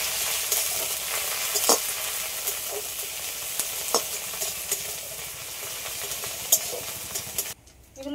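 Curry leaves and mustard seeds crackle and sizzle in hot oil for a Bengali mango lentil fritter dish, with scattered sharp pops and stirring scrapes under a steady close hiss that cuts off near the end.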